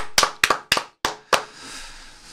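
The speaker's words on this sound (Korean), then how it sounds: "박수 한번 치겠습니다, 여러분." Five sharp, close hand claps ring out at a quick, slightly uneven pace on a Korean talk show, each snapping crisply before a faint tail fades into quiet.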